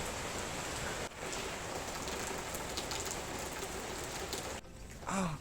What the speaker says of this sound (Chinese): 现在下雨了，山顶。